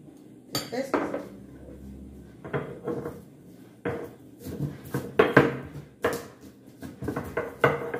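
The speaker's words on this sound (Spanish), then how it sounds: "Aquí en este molcajete es donde voy a, moler las especias miren" Spices being ground in a stone molcajete, heard as a series of close, sharp knocks and scraping stone strikes in irregular bursts with quiet gaps between them.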